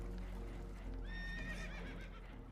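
Horses whinny and neigh in Red Dead Redemption 2 aboard a damaged boat taking on water, a couple of high shrill calls rising over a constant low rumble with faint hoof clatter.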